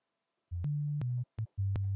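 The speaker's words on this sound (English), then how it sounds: "We can see that it's playing" A software synthesizer oscillator plays clean sine tones, a short run of separate steady pitched notes with clicks at each start and stop, heard alone after a moment of silence.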